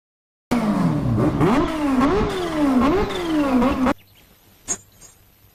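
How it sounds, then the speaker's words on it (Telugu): A motorcycle silencer exhaust revs loudly and close, several rising and falling throttle blips over about three seconds, then cuts off abruptly into near silence with one brief knock. "నేను మీకు సైలెన్సర్ సౌండ్ అనిపిస్తాను"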